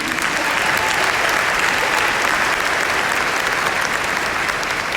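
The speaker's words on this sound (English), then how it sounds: "Let's give them a round of applause." A large crowd at a graduation ceremony applauds the graduates, a thick, even wash of clapping that stays loud and constant for the whole stretch with no talking.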